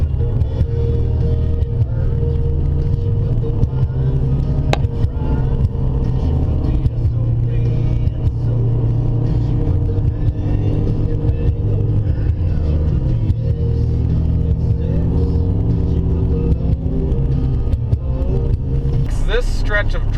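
A car drives along a rough, badly surfaced Alaska road, with a continuous loud rumble of engine and road noise and occasional bumps and rattles throughout.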